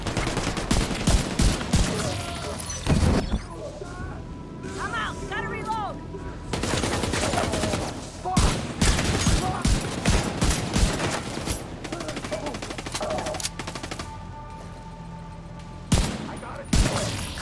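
Video game shootout with dense bursts of gunfire and rapid machine-gun volleys, loud and close, broken by brief pauses, while a voice talks between shots.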